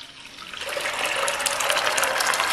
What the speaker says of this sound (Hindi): अब इस दाल के पानी के साथ ही इस दाल को हम इसके अंदर शामिल करेंगे